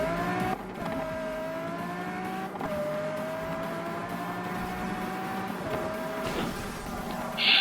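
A racing car in the video game Need for Speed Rivals accelerates hard, its engine whining and climbing through several gear shifts with brief tire squeal, loud and continuous with no talking.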